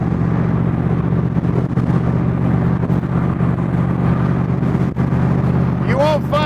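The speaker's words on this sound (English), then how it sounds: "She's going nice and straight down the road." A 1965 Shelby Cobra replica drives down a road, its engine a steady, close, low rumble that carries through the whole stretch, with someone talking over it.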